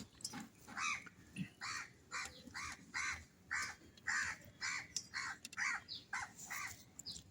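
Repeated crow caws from a rooftop in a steady series of about a dozen calls, fairly close, over quiet background.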